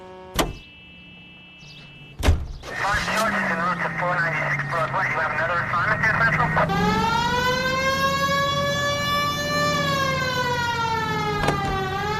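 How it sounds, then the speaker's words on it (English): A police car siren in the video game L.A. Noire winds up and wails in rising and falling sweeps, loud and close, with a couple of sharp clunks and a voice speaking early on. "We have a siren."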